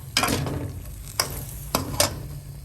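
Yardlong and winged beans with carrot being stir-fried with pig ear, oyster sauce and shrimp paste, a steady low sizzle broken by a few scraping stirs of the spatula against the pan.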